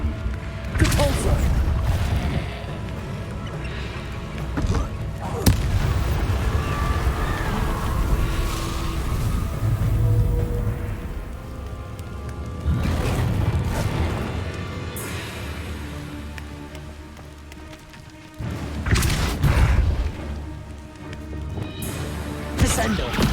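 Depulso spell impacts in Hogwarts Legacy: several heavy booming thuds and crashes land at intervals over a dense, continuous game soundscape, loud and full throughout.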